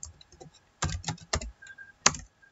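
Computer keyboard keys tapped while typing HTML and JavaScript code, a few quick close clicks in short irregular bursts with one sharper final keystroke against a quiet background.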